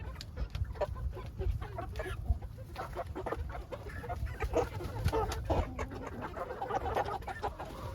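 Several chickens in a coop cluck and murmur continuously nearby, with scattered higher calls over a low steady background hum.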